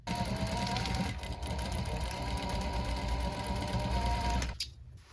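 Sewing machine back stitching a rolltop rucksack runs in a fast, steady mechanical whir with a rattling, knocking rhythm, close and continuous before stopping abruptly near the end.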